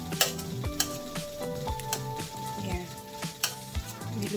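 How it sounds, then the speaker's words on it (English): Chicken breast tenderloins cooking in red wine in a pan, a quiet sizzle broken by repeated utensil taps and scrapes against the pan, close, with no voices. "I just cook it in the red wine"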